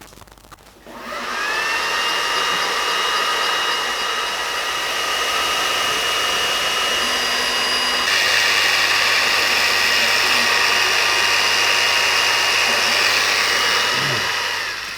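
An xTool D1 Pro laser cutter works on cork with a steady, loud whirring drone from its fan and motors, holding constant throughout with a slight shift in pitch midway.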